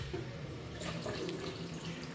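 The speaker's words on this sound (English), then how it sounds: "So you can see the water coming out from the tap." Water runs from a tap once the mains stopcock is turned on, a quiet steady trickle and splash into a basin, faint and close, with no speech.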